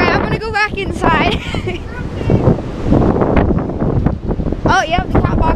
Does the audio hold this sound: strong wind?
yes